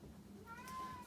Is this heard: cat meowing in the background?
yes